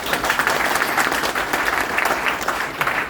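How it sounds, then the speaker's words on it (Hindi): Loud, dense applause from a meeting audience, a close, continuous roar of many clapping hands that stays steady for about three seconds. "डॉक्टरों के लिए तो तालियां होनी चाहिए"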